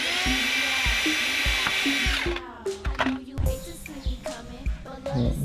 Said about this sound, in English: Got our holes drilled.